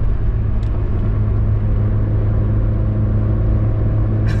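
A Citroën Saxo is driven on the Nürburgring and overtakes another car, heard from inside as a loud, steady engine and road drone that continues without a break.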